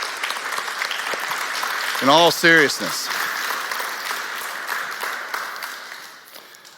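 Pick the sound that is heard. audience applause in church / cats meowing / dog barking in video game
audience applause in church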